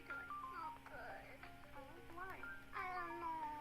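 A cat meows repeatedly in varied, high-pitched calls, audio from an AI-generated cat video playing back, steady and fairly close throughout with a faint hum beneath.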